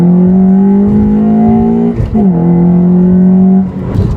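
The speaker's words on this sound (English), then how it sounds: "I gotta get ready to launch the car here" Car engine revving hard and close for a launch, a loud sustained roar that rises in pitch, dips briefly as it shifts, then climbs again before easing off.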